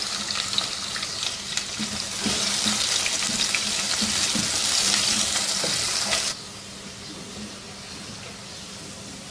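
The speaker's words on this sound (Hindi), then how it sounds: "दो दरमियाने साइज़ के प्याज स्लाइसेस में काट के और इनको भी गोल्डन ब्राउन फ्राई कर लेंगे" Sliced onions, two medium ones, frying golden brown in oil: a steady broadband sizzle that grows louder and denser midway, then drops abruptly to a quieter hiss for the final seconds.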